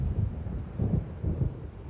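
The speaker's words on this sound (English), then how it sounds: "It seems there's a storm coming." Low thunder from an approaching storm in the video game Alan Wake rumbles in rolling swells, loud and deep, steady for the whole short stretch with no voices.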